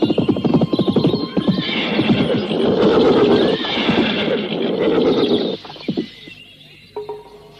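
A horse neighs loudly and close by in a long, wavering whinny that fades, followed by a few softer snorts and hoof sounds. No one talks over it.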